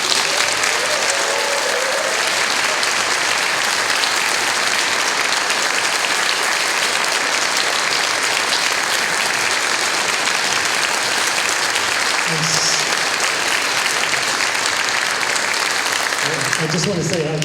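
An audience in Saskatoon breaks into sustained, loud applause after the premiere of a new piece of music, a dense, even wash of clapping that holds steady throughout.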